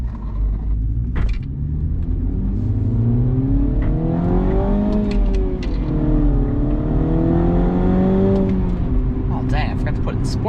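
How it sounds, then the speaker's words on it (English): A small car's engine revs up and down in long sweeping pulls, not in sport mode, loud and close, with sharp crackling exhaust pops breaking through near the end. "now you can hear the pops"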